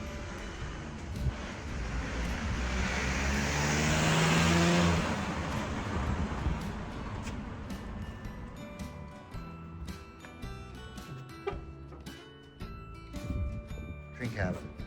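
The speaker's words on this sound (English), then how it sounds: "Wait for the car." A car passes close by on a street, its engine and tyre noise swelling to a peak and then fading away, with ticking and clicking sounds continuing afterward.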